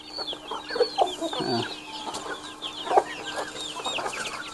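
A Shamo mix breed hen, a ringed hen with a 2020 leg ring, clucks in short repeated calls close by, with other birds chirping and twittering around it through the whole stretch.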